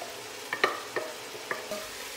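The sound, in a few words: vegetables sweating and frying in a pan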